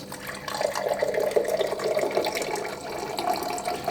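Ambient-temperature water pouring from the tap of a Wonder Water dispensing unit, a steady splashing, gurgling stream at even loudness throughout.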